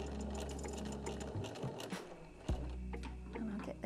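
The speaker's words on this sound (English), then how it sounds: "So we'll drop that down and then I'll draw up the bobbin thread." A sewing machine drawing up the bobbin thread for free machine embroidery, a brief close run of mechanical whirring and clicking with a sharp knock midway.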